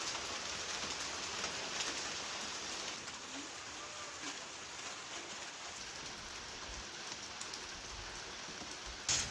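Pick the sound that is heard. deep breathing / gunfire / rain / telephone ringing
rain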